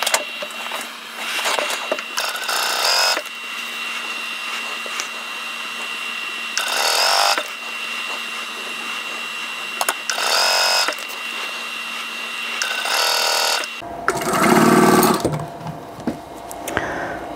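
A sewing machine stitching quilt block pieces together in several separate whirring bursts of a few seconds each, close and clear with short pauses between, ending in a rougher handling noise.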